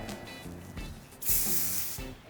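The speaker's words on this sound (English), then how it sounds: "I spray a little bit of hairspray. You want to get a good mist all over." A hairspray can sprays a fine mist over hair in one sustained hissing burst, soft and close, set among quieter handling noises.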